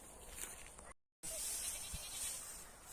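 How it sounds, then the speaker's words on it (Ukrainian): Goats bleat faintly in the distance over a quiet outdoor background, with a brief moment of silence partway through. "вже кози наші мекають уже додому, хочуть"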